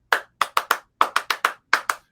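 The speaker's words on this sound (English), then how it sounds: "And we'll start clapping like," People clapping together over a video call, a scattered run of about ten sharp, separate claps in uneven bursts, close and clear with no talk.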